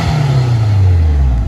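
A Nissan S14 with a newly installed exhaust gives a brief, loud, close-up rev, its deep rumbling tone gliding lower as it settles.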